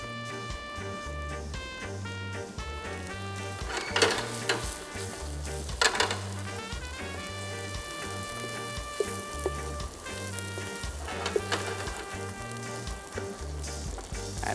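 Food frying in a pan sizzles steadily over reduced heat, a constant crackling hiss running throughout alongside a sustained tonal hum and a few louder stirring scrapes.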